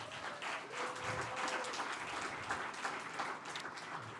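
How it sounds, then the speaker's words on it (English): Audience applause for event sponsors at an entrepreneur speaker series session, steady and fairly distant, a dense patter of many hands with no talk over it. "so can we give them a round of applause?"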